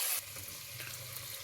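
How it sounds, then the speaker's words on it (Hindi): Water streams steadily into a cooking pot for chicken Peshawari yakhni, a soft continuous pouring rush after a brief louder start. "8 से 9 ग्लास हम अब इसमें पानी डालेंगे।"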